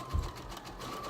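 A sewing machine stitches swimsuit fabric, giving a quiet, steady whirring hum with a faint mechanical rattle, close by and uninterrupted.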